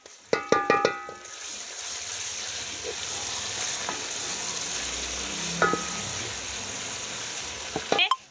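Steady sizzling of garlic-ginger paste frying with onions in a pan, with stirring and a few sharp metallic clinks of a utensil against the pot near the start and end.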